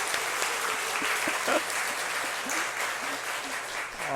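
A church congregation applauds together after a solo song during a service, making a dense, sustained burst of clapping from many hands that fills the room evenly for a few seconds.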